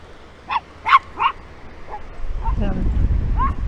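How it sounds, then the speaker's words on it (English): A small dog gives several short, high yips and barks, followed by softer whimpers as wind noise rises in the background. "And there's another little dog."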